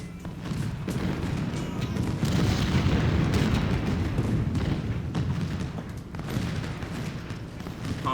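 Civil War artillery fire in the strategy game Ultimate General: Civil War, a continuous rumbling barrage of booms and distant musket crackle, dense and steady throughout without talk.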